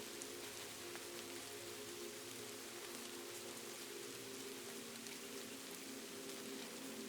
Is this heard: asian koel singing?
no